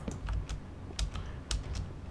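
Someone types on a new computer keyboard with a handful of crisp, uneven keystrokes and clicks close by during a gaming session.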